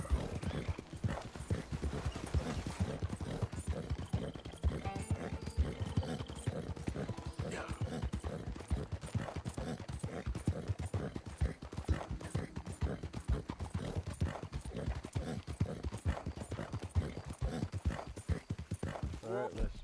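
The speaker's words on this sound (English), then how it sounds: "My horse won't run faster in cities." Horse hooves clip-clop in a rapid, steady rhythm as a horse moves through a city in the video game Red Dead Redemption II, with an occasional whinny among the continuous footfalls.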